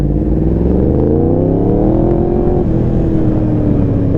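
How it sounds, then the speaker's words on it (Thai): A Yamaha R1M motorcycle revs hard in first gear, its engine note climbing steadily in pitch, then easing and rising again, loud and close throughout with no talk. "เกียร์หนึ่งแม่งซัดทีรอบมาเร็วชิบหาย"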